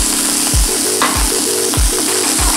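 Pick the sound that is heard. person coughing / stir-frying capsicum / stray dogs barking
stir-frying capsicum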